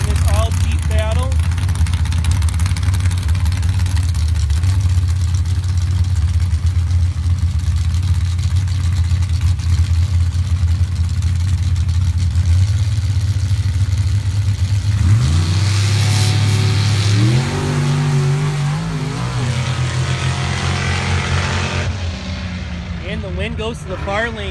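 Jeeps in a Pro Bracket drag race at the Avenal Fall Nationals roar steadily with loud engine noise for about fifteen seconds, then rev sharply with rising pitch sweeps. An announcer talks over the engines.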